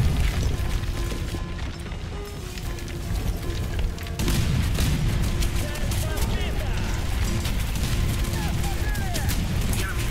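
Continuous loud tank gunfire and booming blasts with mechanical clatter in War Thunder, a dense barrage running throughout without pause.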